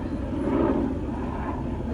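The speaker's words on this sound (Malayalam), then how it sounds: "ഇത് കണ്ടില്ലേ, ഒരു വിമാനം, ആകാശ ഹെലികോപ്റ്ററാണോ എന്തോ അത്" Aircraft passing overhead above a sunny, sandy Dubai street, heard as a steady, broad low drone that holds at an even level throughout with no talking.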